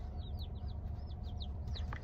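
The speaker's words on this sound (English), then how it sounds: "Baby chickies are here." Newly arrived baby chicks peep in a box, a quick run of high, thin, rising chirps repeating several times a second, close but fairly faint over a low background hum, with no talking.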